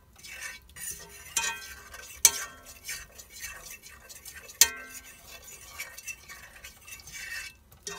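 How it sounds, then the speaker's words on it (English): A fork stirs sausage gravy in a hot pan of oil and sausage pieces, with scraping and clinking against the metal, a few sharp taps and a soft sizzle underneath, close and fairly quiet. "I always use a fork to make sausage gravy"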